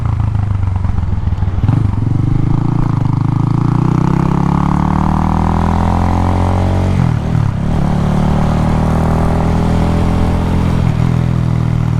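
A 150cc motorcycle engine runs steadily while being ridden, droning loud and close throughout with its pitch climbing and dipping as the rider speeds up and eases off, with no voices over it.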